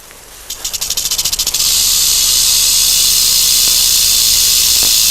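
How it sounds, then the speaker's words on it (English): A rattlesnake shakes the rattle at the end of its tail, opening with a quick run of pulsing buzzes that merge into a loud, steady, harsh hiss, close by and with no voices. "having this rattle at the end of its tail, which it shakes, making a very harsh rattling sound"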